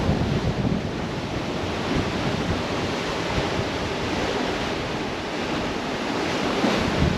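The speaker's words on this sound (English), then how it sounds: "The winds are really, really strong. The waves are big" Strong gale-force wind batters a sailboat far out at sea, roaring across the microphone over the heavy, continuous wash of big waves, loud and unbroken with no voices.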